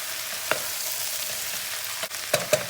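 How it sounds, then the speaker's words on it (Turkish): Leeks stirred in a pan with onion, oil and carrot, a soft steady sizzle with a few light scraping knocks of the spoon, close and fairly quiet. "Hemen bir kere karıştırıyoruz soğanla, yağına, havucuna"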